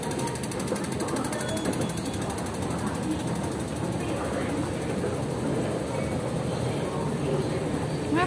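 A Tsuen Wan line train at Diamond Hill, Hong Kong, gives off a steady, loud mechanical rumble with rattling, ratchet-like clatter that runs without a break from start to finish.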